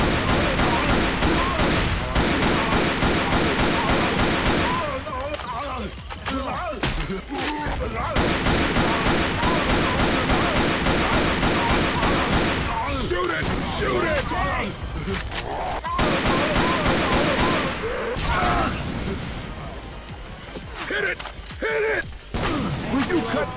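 Near-constant automatic gunfire and shots from a video game fire session rattle loud and close, with a few short breaks where voices call out over the noise.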